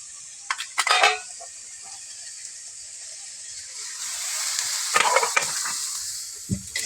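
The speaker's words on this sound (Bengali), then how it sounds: "জলটা আরো যাতে মরে যায় একটু নেড়ে চেড়ে নেবো।" Boiled kharkol leaves are stirred in a pan to drive off remaining water, with a soft steady sizzle broken by bursts of scraping and clinking spatula strokes near the start and again toward the end, no talking.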